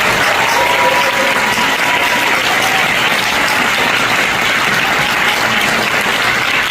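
Loud, sustained audience applause fills the hall throughout at a youth leadership academy launch ceremony, dense and even with no pauses.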